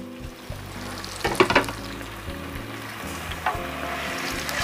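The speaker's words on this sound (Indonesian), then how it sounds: "Sambal terasinya setelah giling kasar ya, saya goreng lagi ya teman semua" Coarsely ground sambal terasi, a chili and shrimp-paste relish, frying a second time in a pan, giving a steady close sizzle with a few louder spatters and the clatter of stirring.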